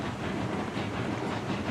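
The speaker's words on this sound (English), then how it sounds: "This a bigger, stronger locomotive with a slightly bigger train." A bigger, stronger locomotive in Railroads Online pulls a train with a hopper at the end, producing a continuous rumbling roll with faint rhythmic clatter, steady and moderately loud.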